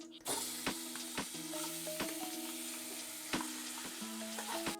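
Chikoo pulp hits hot ghee and fries in a steady sizzle, with sharp scraping clicks from a utensil against the pan repeating every second or so throughout, close and moderately loud.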